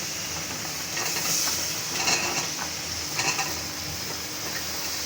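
Sliced ridge gourd and thin-cut potato hit a hot pan for a prawn curry, setting off a steady hiss of oil with louder sizzling bursts and scraping as they are stirred, and no one talking.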